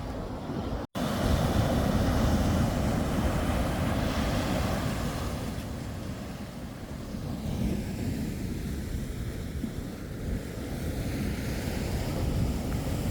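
Surf rolls onto a beach in Goa in a continuous broad roar, heavy wind buffeting the microphone over it, with one brief dropout near the start and no voices.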